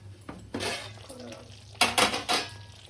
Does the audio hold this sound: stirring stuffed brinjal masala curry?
yes